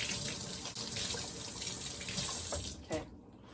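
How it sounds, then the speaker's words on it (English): Cold tap water runs steadily into a sink to wet a cheese cloth, a continuous splashing stream that stops near the end, close and clear with no talk. "So then I get this wet in cold water."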